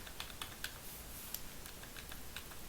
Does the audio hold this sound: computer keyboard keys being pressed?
yes